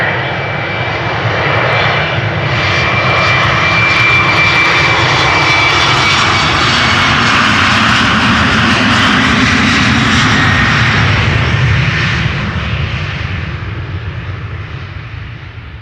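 A KLM Embraer 190 jet departs for Stavanger at Amsterdam Schiphol's Polderbaan, its engines roaring loud and steady with a broad rumble and high whine that fade slightly toward the end.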